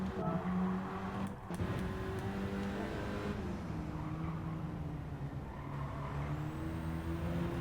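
Race car lapping the Goodwood circuit in Gran Turismo 7, a loud, steady engine drone that dips as the driver brakes and coasts, then climbs in pitch again under power, with no voices.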